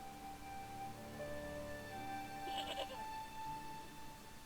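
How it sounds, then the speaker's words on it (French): A goat in the point-and-click adventure game Broken Sword gives a single short bleat mid-clip, faint and thin against quiet game ambience and tonal background music, with no talk. "il y a une chèvre"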